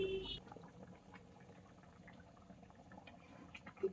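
Pork and chayote boil in water in a pot for a pork and greens dish, with a faint, low simmering bubble and a few soft clinks close by.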